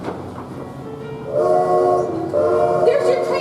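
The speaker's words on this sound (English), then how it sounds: "There's your train now. Run for it." Stage sound effect for a departing train in a 2019 school production of The Music Man: a rumbling rail sound swells into a loud, sustained horn-like blare with overlapping tones, steady and close.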